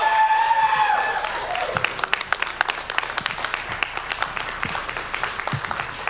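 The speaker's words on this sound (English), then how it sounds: "So let's give a round of applause for that." A live studio audience at a comedy show breaks into applause, a dense wash of clapping that rises after a brief voice at the start and then carries on steadily and fairly loud.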